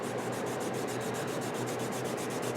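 Glue being rubbed off a craft mat that also carries distressed ink stains, a steady, continuous close-up scrubbing friction with a fast repeating back-and-forth rhythm throughout, no voices.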